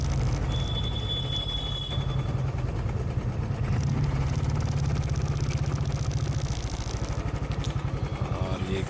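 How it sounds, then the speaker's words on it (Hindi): A motorcycle engine drones steadily while riding on the road from Ujjain towards Jaipur, India, a low pulsing rumble with road and wind noise, loud and constant throughout. "बाइक साउंड आना चाहिए था रिकॉर्डिंग में,"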